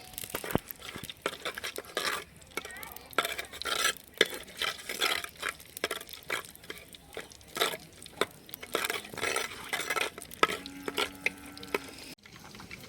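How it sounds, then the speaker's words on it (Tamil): Fennel seeds frying in hot oil for a chicken gravy are stirred in the pan, giving repeated close scraping strokes over a faint sizzle, with a brief pause near the end. "சோம்பு தேவையான அளவு போட்டுக்கலாம். அது கொஞ்சம் கிண்டி விட்டுக்கலாம்."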